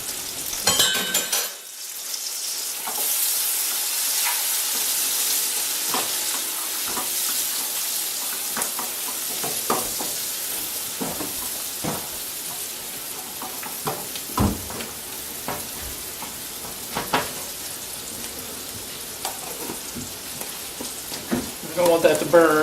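Garlic sizzles and fries steadily in a pan, a continuous close crackle with occasional louder pops and stirring clicks, while someone cooks radish hash browns.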